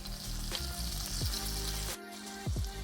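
Garlic and curry powder fry in a wok with a strong steady sizzle close up, punctuated by a few quick scrapes and clanks of a utensil on the metal.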